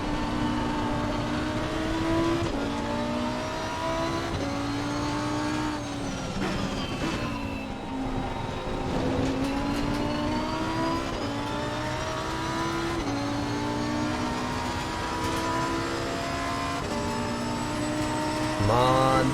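A Lamborghini GT3 race car driven on a wet Monza circuit in Assetto Corsa Competizione, its engine droning loudly and continuously as the pitch climbs and drops through gear changes, with a rising rev burst at the end.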